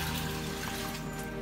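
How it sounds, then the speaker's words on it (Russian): Cold tap water from a household faucet pours into a vessel to fill it, a steady, even rush alone with no voices. "холодная вода просто из крана, водопроводная"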